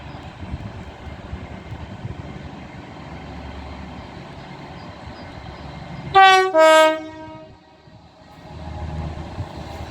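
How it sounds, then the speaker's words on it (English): An East Midlands Railway train departing Leicester station sounds two loud, close horn blasts in quick succession midway through, set against a low rumble of rolling stock and station ambience. "departing now 5 minutes late will be the East Midlands Railway service to Nottingham"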